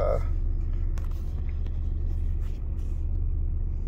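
A 2004 Chevy Astro Van with a 4.3 Vortec engine idles with a steady, low, smooth rumble, close and continuous, with a brief voice heard at the start.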